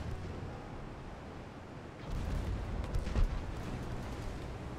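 A torpedo explodes in the naval video game Ultimate Admiral: Dreadnoughts, a deep boom swelling over a rumbling backdrop, followed by a sharper burst and a lingering low roar.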